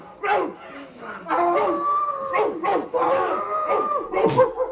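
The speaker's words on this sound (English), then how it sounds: "He's like holding it up, making it bark." A dog barking and whimpering in a film scene, with a toy or prop dog held up and made to bark; repeated yips and howl-like tones run through the short passage, fairly close and loud, with some voices mixed in.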